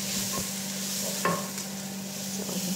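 Shrimp sizzle quietly in a hot pan as they are stirred, with a steady soft frying hiss broken by a few scraping stirs of the utensil, and no talking.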